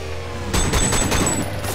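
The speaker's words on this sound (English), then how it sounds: "Look, I just shot all up in his shit." Gunfire in the video game Sleeping Dogs, a quick burst of several rapid shots heard close and sharp after a brief quieter moment, with no talk.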